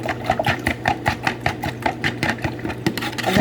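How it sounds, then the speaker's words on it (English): A Tupperware whisk beats a garlic-pepper seasoned mixture for a mozzarella spaghetti casserole, giving a quick, steady rhythm of close clicking strokes, several per second, running continuously with no talking. "And then whisk this up real quick. So with the Tupperware whisk."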